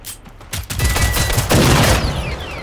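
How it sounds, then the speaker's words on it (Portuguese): Rapid bursts of gunfire in the video game Generation Zero, loud and close, with dense overlapping shots and a brief lull before the firing resumes, lasting throughout. "É tenso dar tiro aqui."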